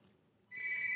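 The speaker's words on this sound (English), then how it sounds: "Sorry about the phone ringing." A telephone starts ringing partway through, a steady electronic ring that is fairly faint and indoors, heard after a quiet pause with no talking.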